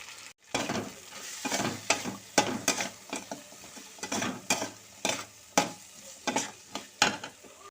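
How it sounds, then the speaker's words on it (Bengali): Green peas sauté with salt and turmeric powder in a pan, the soft sizzle broken by a regular run of scraping spoon strokes, close and fairly loud, with no voices. "একটু ভালো করে কষিয়ে নিতে হবে যাতে এই মটরশুঁটিগুলো ভালো করে সেদ্ধ হয়ে যায়"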